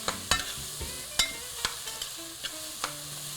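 A spoon clacks against a pot several times while seasoned vegetables are stirred in, each knock sharp and distinct over a faint background hum.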